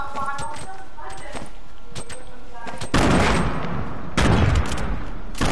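Video game gunfire: two loud, broadband bursts arrive in the second half, each lasting about a second, after lighter clicks and footsteps, with a player chatting in French over the top.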